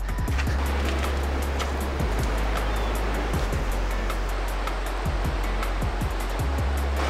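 Water rushes steadily over eroded rock near a suspension bridge, a dense, continuous outdoor roar with occasional low thumps, no voices.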